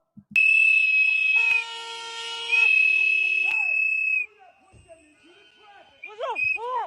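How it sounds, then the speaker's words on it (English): Shrill whistles blow from a TikTok video playing on a device, two long, loud, sustained tones with a short gap between them, followed by someone talking. "ain't they blowing like whistles or something, man?"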